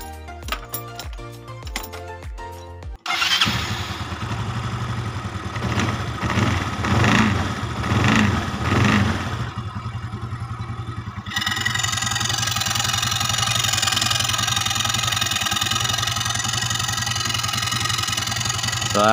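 A Yamaha Xeon RC scooter with a freshly replaced V-belt and rollers and a rough-sounding engine: clatter, then the engine catches and runs with revving blips before settling into a steady, fairly loud idle.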